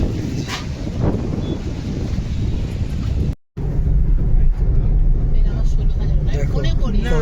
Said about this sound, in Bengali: এখানটা কি সুন্দর হাওয়া